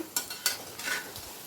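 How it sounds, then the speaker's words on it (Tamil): Onion bondas deep-fry in hot oil as a faint, brief sizzle, broken by a few short scraping strokes from a utensil stirring through the pan. "இப்போது நல்லா பொரிஞ்சு வந்துடுச்சு."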